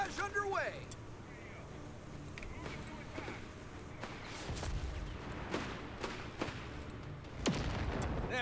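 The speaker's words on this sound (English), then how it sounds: "Artillery barrage underway." Artillery barrage in the video game Company of Heroes 3: scattered booms and gunfire bursts of mid loudness over a rumbling battlefield background, with one sharper blast near the end.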